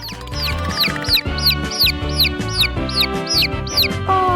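A chick peeps in a steady, rapid series of high chirps, about two per second, over a busy musical background.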